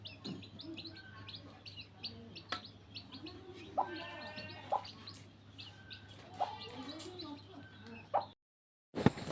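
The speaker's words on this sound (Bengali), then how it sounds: "তার মা তাকে যেভাবে ডাক দিচ্ছে তারা দৌড়ে চলে যাচ্ছে খাবার খাওয়ার জন্য।" A mother hen calls her one-day-old chicks with low, repeated clucks, mixed with a steady chorus of high chick peeps and chirps close by, under a constant low hum.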